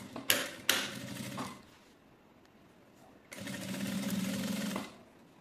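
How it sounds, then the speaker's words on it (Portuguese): A domestic sewing machine stitches the fabric pocket of a box, running in two bursts: a short whirring run with sharp clicks at the start, a quiet pause, then a longer steady stitching run close by. "E faço a costura agora de vesponto."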